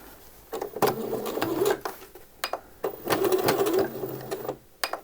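A sewing machine stitches the hem of drawstring shorts in quick close bursts of rapid mechanical whirring, separated by short pauses.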